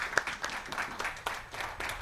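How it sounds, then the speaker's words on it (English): Audience applause at the closing ceremony of an online medical conference, a short burst of scattered, fairly quiet clapping with uneven hand claps across the whole moment. "let's have a big round of applause for these pillars of PSH."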